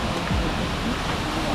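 Bhoot Chhanga waterfall near Kathmandu pours in a steady, broad roar of falling water, close and continuous throughout.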